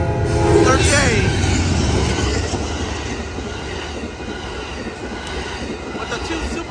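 The Amtrak Coast Starlight, led by two P42 locomotives with two Superliner cars, rolls past on Fruitvale Avenue in Oakland, California, a loud close rumble with rattling cars and a faint wheel squeal that fades a little as it goes by.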